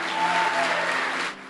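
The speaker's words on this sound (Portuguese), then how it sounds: "aplauda Jesus" Congregation applauding for Jesus at a Brazilian evangelical church service, a dense, steady wash of clapping that holds for over a second before dropping away.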